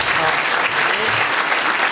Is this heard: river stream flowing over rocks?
no